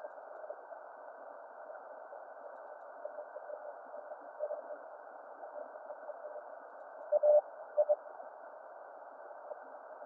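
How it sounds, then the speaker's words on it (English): Morse code tone on a ham radio, a narrow band of radio hiss and static carrying a few faint beeps, with two brief keyed bursts near the end and no voices. "It's on Morse code."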